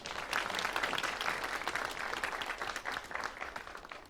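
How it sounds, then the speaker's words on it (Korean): A crowd at a youth group results presentation applauds with steady, dense clapping that holds evenly from start to finish, fairly soft and a little distant. "네, 박수 부탁드립니다."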